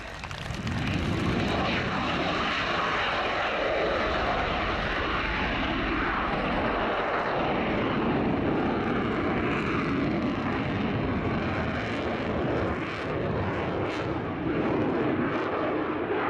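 A Dassault Rafale Marine jet roars steadily overhead at an air show for the whole stretch, a loud continuous engine rush with no pauses.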